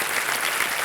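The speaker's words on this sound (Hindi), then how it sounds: "एक बार फिर से तालियां बजाते हैं आपके लिए।" Studio audience of a televised quiz show clapping, a dense, steady burst of applause heard alone and close for under a second.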